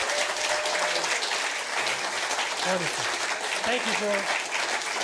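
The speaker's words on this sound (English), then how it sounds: "Give him one more round of applause" Audience at a banjo gathering's final concert applauds a performer with dense, steady clapping throughout, as someone speaks briefly over it.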